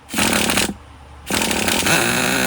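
A Traxxas Nitro Slash RC truck's small nitro engine, on factory carburetor settings during its first start, roars up in two loud, buzzing, rattly bursts with a short dip between, close by and with no talk.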